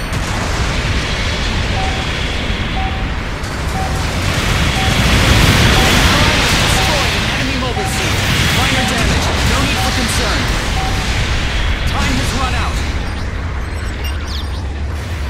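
An enemy mobile suit explodes in Gundam Battle Operation 2, with loud rumbling blasts and bursts rolling through a noisy battle while a steady series of short electronic beeps repeats over the top.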